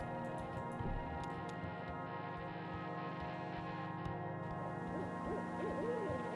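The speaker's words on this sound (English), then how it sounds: "There's gotta be an owl out here somewhere. I hear him at least." Soft owl hoots in Kentucky Route Zero repeat against a steady droning game ambience, with faint ticking in the background; the scene stays moderately quiet throughout.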